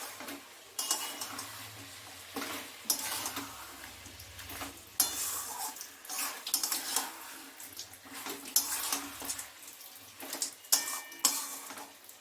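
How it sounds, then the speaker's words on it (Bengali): Duck meat being stir-fried in a pan as it is cooked down kosha-style, with repeated scraping and stirring strokes over a steady wet sizzle, close up and with no talking. "তো চলো কষিয়ে নিই"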